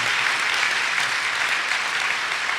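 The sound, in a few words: audience applause for PH nurses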